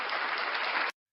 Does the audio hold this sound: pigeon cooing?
no